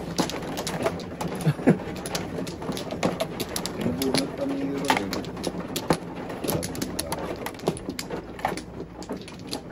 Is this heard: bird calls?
yes